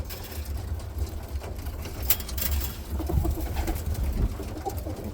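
Birmingham Roller pigeons coo softly in a loft with young birds, a steady low murmuring chorus running throughout alongside faint rustling and a few brief clicks.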